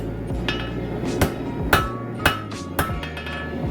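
A hammer striking a paring knife blade on the edge of an anvil, five or six sharp ringing metallic blows at a steady, unhurried pace, close and clear over a faint background hum.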